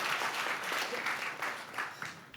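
Audience applause at an alumni association president's inauguration ceremony, sustained clapping from a crowd with slight swells, moderately distant and without speech.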